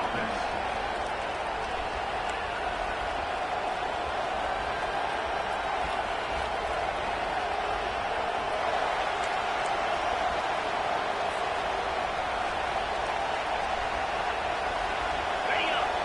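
A packed stadium crowd in the college football game NCAA Dynasty keeps up a steady, loud roar for the whole stretch, with a commentator's voice running over it.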